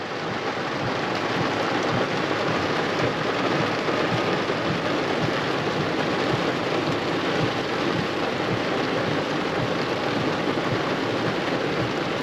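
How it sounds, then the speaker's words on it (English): Steady heavy rain drums on a car roof and windows during a crabbing trip at Surf City, New Jersey, a dense continuous roar with low rumbles mixed in and no voices. "Rains for like 5 minutes, then stops, then rains again, then stops."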